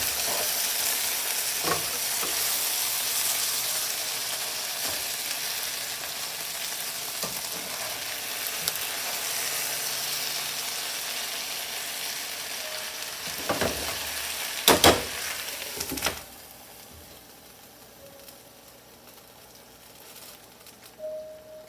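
Pork chops and potatoes frying together in one pan give a constant close sizzle with occasional pops and clatters, softening near the end; no one speaks.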